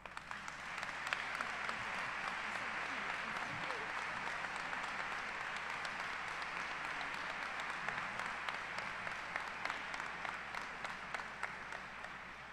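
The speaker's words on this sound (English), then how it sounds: "Please give a round of applause to someone who has dedicated many years to the education of the students of New Fairfield, our superintendent," Graduation audience at New Fairfield High School applauding their superintendent: dense, sustained clapping from a large crowd fills the whole stretch, steady and even with individual claps popping out, moderately distant.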